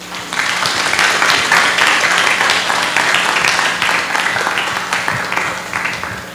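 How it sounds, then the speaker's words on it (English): Audience clapping for a panel at the close of a university lecture series event on impact evaluation, a sustained moderately loud round of dense applause lasting several seconds, gradually thinning toward the end. "please give them a round of applause"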